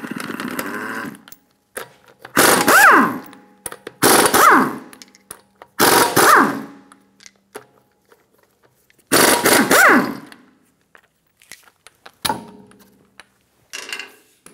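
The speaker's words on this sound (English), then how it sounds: "remove the lug nuts" Lug nuts are loosened from the front wheel hub of a 2013-2017 Honda Accord with a 19 mm socket, heard as several loud, separate bursts of rattling mechanical whirring spaced a second or two apart, with quiet gaps between them and no talk.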